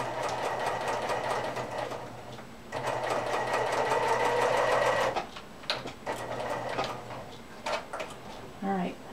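A sewing machine stitching quilt binding runs in short bursts, a rapid whirring chatter starting and stopping several times, close and clear, with a brief voice near the end.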